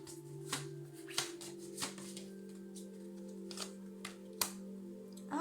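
Oracle cards being shuffled and drawn for a card reading, with a handful of sharp, separate flicks and snaps of card stock over a steady low hum, close by and with no talking.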